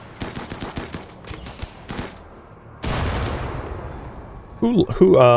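Plasteel turrets firing in the video game RimWorld during a raid: rapid bursts of mechanical gunfire that trail off, followed by a sustained rushing blast, then a voice speaking over the end.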